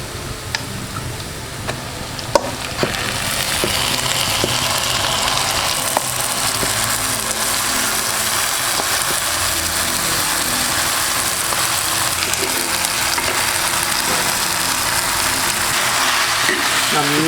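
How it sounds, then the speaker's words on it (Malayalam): Marinated chicken hits a hot pan for a traditional chicken curry, bursting into a loud, steady sizzle that holds for many seconds, with a few clinks and taps of stirring early on. "നമുക്കിനി ഇതിലേക്ക് നമ്മുടെ മാരിനേറ്റ് ചെയ്യാൻ വെച്ചിരിക്കുന്ന ചിക്കൻ ഇതിലേക്ക് ആഡ് ചെയ്ത് കൊടുക്കാം"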